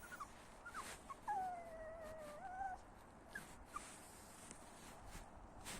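A puppy whimpers in thin, high, wavering whines, several short cries and one longer drawn-out one, faint against quiet background shuffling.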